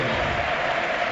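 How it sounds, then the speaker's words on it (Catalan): A stadium crowd at a FC Barcelona versus Real Madrid La Liga match roars with steady applause and ovation for a substituted player, a dense continuous wash of sound with commentary voices mixed in. "Ovació per Keita."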